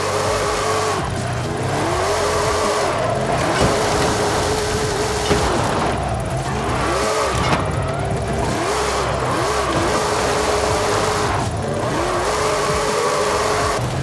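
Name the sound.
Ford F-450 truck engine revving, video game Forza Horizon 5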